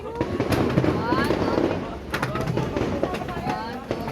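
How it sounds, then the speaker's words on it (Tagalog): Fireworks go off at night outdoors, a busy stream of crackling bursts and sharp pops with whistling streaks, fairly near and continuous, while people talk over them. "may nagpapa-fireworks dito"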